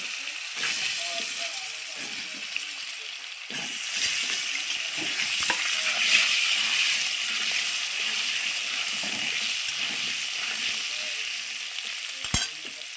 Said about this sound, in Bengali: এই আলুটাকেও আমি একটু ভেজে নেব